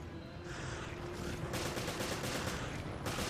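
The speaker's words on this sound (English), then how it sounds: "Shooting Parker in the back of the head." Gunfire in the video game Resident Evil: Revelations, a dense, loud burst of repeated shots that blend into a continuous rattling roar.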